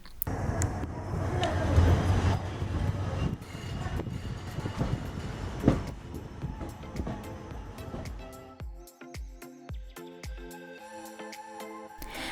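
A passenger train pulls into a railway station, its loud rumbling and rattling wagons dominating at first before easing into quieter, intermittent clanks as it slows.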